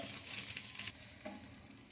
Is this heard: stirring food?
yes